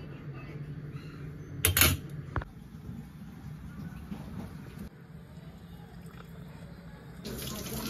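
Tap water running while a father's head is washed because he is unwell, a faint uneven splashing and trickling stream with a short louder gush near the start.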